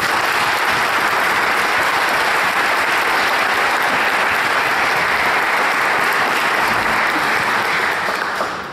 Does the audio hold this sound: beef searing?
no